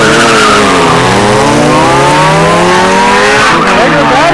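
Race cars, an Acura Integra and a Mazda RX-7, launching at a drag strip with loud tire squeal and rising engine revs, close and continuous.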